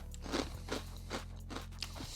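Crunchy protein chips that look like Cheez-It crackers being bitten and chewed close up, five or six sharp, loud crunches in a fairly even rhythm with no talking.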